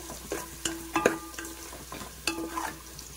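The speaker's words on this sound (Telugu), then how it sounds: "మనకి ఉల్లిపాయ అంత ఫ్రై అవుతే వెజిటేబుల్ పలు అంత టేస్టీగా ఉంటుందండి" Onions frying in oil for veg biryani, with soft sizzling and a few spoon-on-pan clinks and scrapes, close and fairly quiet, no voices.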